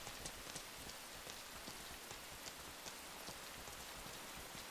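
Steady rain pours in the video game Rain, a dense, even hiss of falling drops with faint patters on a surface, continuous and soft with no voices.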